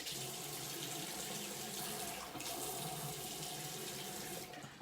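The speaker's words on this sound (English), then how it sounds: "I'm going to add a little bit of water to my face" A bathroom tap runs steadily into a sink while water is splashed onto the face, a constant hissing flow with brief surges of splashing partway through, quiet and close, no voices.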